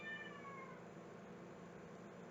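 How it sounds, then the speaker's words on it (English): A feisty cat lets out a drawn-out, rising-and-falling meow near the start, close but fairly quiet over a low background hum, then trails off into steady room noise. "My cat is trying to fight again"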